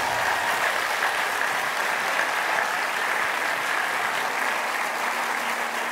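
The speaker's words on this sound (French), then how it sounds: "j'ai entendu les applaudissements, pas les cris hystériques" A conference audience at a health-debate club talk on sleep and its disorders applauds to welcome the speaker, producing steady, sustained, loud clapping from many hands throughout, with no voices over it.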